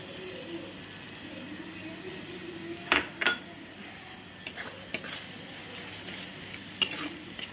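Spice paste sizzles and fries in a pan, a soft steady hiss broken by a few sharp clinks of a spoon scraping and stirring against the metal.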